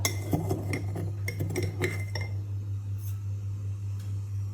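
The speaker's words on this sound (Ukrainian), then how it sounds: "Тепер окремо 3 яйця збиваємо з 3 столовими ложками" Quick metallic clinks and taps against a bowl as eggs are whisked with sugar rattle rapidly for a couple of seconds, then fade to a few scattered clinks over a steady hum.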